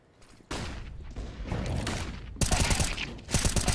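Dense volleys of pistol fire during a professional Counter-Strike match between G2 and Heroic at the BLAST Premier Fall Final 2022, loud overlapping shots that intensify toward the end.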